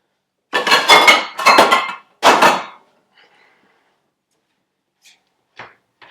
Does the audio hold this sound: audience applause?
no